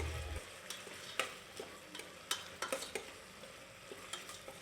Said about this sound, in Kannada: ನೆಕ್ಸ್ಟ್ ನಾನಿಲ್ಲಿ ಸಾಲ್ಟ್ ಹಾಕ್ಕೊಂಡು ಅದನ್ನ ಸಾಫ್ಟ್ ಆಗೋ ತನಕ ನಾನು ಫ್ರೈ ಮಾಡ್ಕೋತಾ ಇದ್ದೀನಿ